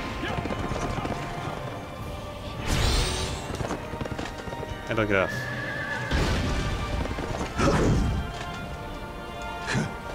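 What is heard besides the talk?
horse neighing and hooves in Berserk Band of the Hawk video game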